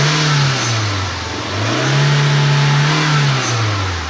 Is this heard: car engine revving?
yes